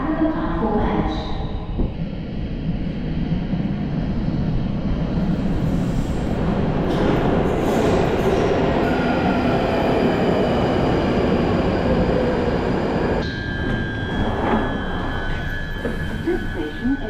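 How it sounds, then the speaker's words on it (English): A London Underground Northern Line train approaching a platform, a loud, sustained rumbling roar with rising wheel and rail noise and a high screech near the end, with faint voices in the station. "Northern Line, the train now approaching is to Morden."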